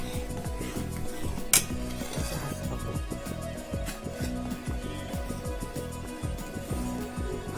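A spoon scrapes and knocks rhythmically against a cooking pot as thick, boiling kadhi is stirred, steady strokes close by, with a faint bubbling underneath.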